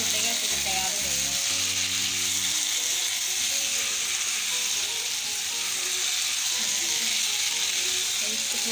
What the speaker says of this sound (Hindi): हरी मिर्च में शामिल करके हम अब अच्छी तरह भून लेते हैं।